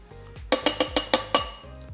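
A spoon stirring a yeast and honey mixture in a glass bowl, six quick bright clinks in an even rhythm, close and clear over a low steady hum.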